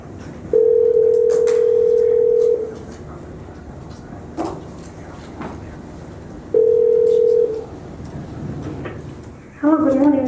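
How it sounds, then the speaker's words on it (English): Telephone dial tone for a call placed in a West Palm Beach courtroom, with two steady tones lasting about two and one seconds separated by quiet room noise and faint murmuring, then a brief ringing burst at the end. "Let me give them a call."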